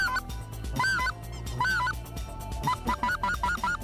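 Specklebelly geese flying over a hunting field near Rosokastro, Burgas, Bulgaria, honking repeatedly in a flock, calls overlapping and strong, with quicker bursts near the end.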